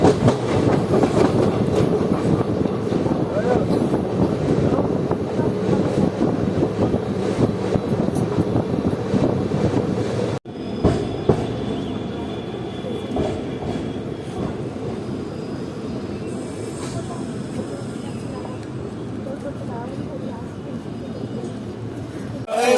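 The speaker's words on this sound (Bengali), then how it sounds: "আমাদের ট্রেন ক্রসিং করছে এখন তালিত রেলওয়ে স্টেশন" The 13028 Azimganj Kaviguru Express, heard from on board as it passes Talit station near Bardhaman, rumbles loudly and continuously with rhythmic clickety-clack over the rails and wind buffeting. The tone shifts about halfway through.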